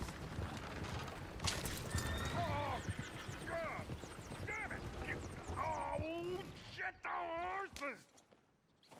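A horse whinnies several times in rising, wavering calls in a video game, with hoof clops and voices mixed into the background.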